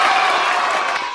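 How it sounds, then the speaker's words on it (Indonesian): A brief burst of crowd applause at a government agency presentation, a dense wash of clapping that may carry some cheering, holding steady for about a second. "Boleh kita tepuk tangan?"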